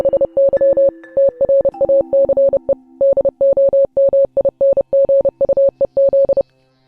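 A single steady electronic tone beeps out Morse code spelling a name, short dots and longer dashes in an even rhythm, clear and close with no talk, followed by a faint second tone briefly underneath.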